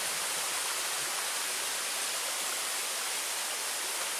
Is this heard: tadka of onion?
no